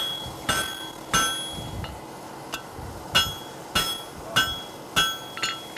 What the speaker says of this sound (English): notice I'm hitting more flat, more parallel to the anvil